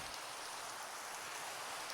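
Steady hiss of rain falling in the video game Minecraft, a soft, even patter with no voices or other sounds.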